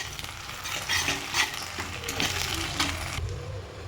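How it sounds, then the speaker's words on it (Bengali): Chopped tomato and green chilies tipped into onions frying in a pan for a country chicken kosha curry, giving a close sizzle with repeated scraping stirs and light utensil clinks, no speech. "এর মধ্যে দিয়ে দেবো টমেটো কেটে রাখা, ঝালের জন্য কাঁচা লঙ্কা।"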